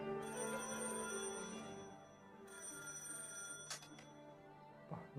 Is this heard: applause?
no